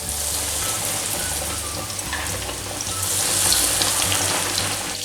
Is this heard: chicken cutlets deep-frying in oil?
yes